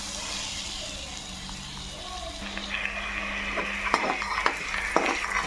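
Onions fry in oil for a spicy egg curry, giving a moderate sizzle with stirring. Sharper clinks of a utensil against the pan grow more frequent toward the end.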